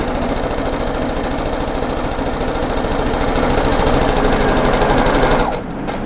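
Sewing machine stitching rag quilt squares corner to corner, a loud, steady, fast mechanical chatter of the needle that runs nearly continuously close up and then slows and drops off near the end.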